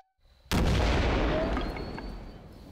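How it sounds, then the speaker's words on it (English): A gunpowder bomb test detonates with one sudden, loud blast after near silence, followed by a long rumbling decay. "It also creates a violent explosion."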